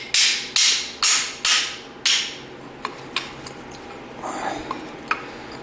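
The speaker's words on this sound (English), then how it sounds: "taking a hammer and tapping these out" A hammer strikes rear brake parts on a 2015 Jeep Wrangler, giving five loud, evenly spaced metallic blows at close range, followed by a few lighter taps and clinks.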